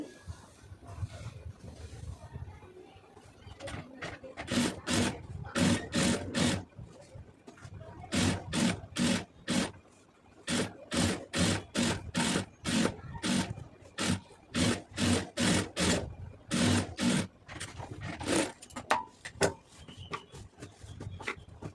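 A sewing machine stitches lace onto a round neck design in rapid bursts of evenly spaced needle strokes, starting, pausing and restarting several times, close and fairly quiet.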